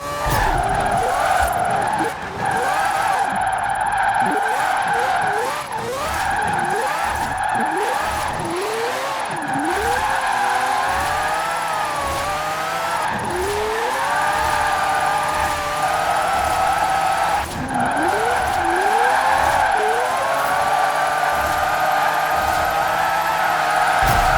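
A small car with a four-rotor rotary engine swap drifts in Forza Horizon 4, its high, buzzing engine note rising and falling continuously under steady tire squeal, loud and close throughout.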